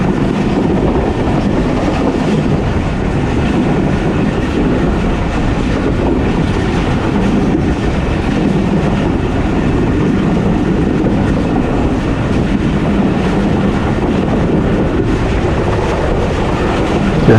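A Pakistan Express train runs on rails through the fields of Sindh, heard from the open door of its AC dining car as a loud, continuous rumble with rhythmic wheel clatter.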